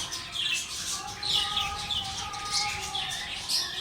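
Lovebirds kept in a rooftop terrace bird farm give a steady stream of high, overlapping chirps and tweets at moderate distance, continuing without pause over a faint background hum.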